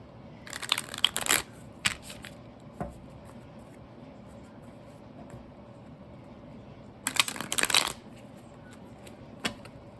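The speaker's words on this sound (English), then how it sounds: "If I can get these cards to shuffle." Two short bursts of tarot card shuffling, crisp riffles close to the microphone, separated by quiet stretches with a few soft taps.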